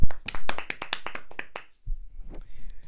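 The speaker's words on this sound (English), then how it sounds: "let's give him a round of applause" A few people in a football podcast studio clap briefly, a short run of distinct, close handclaps that stops after under two seconds.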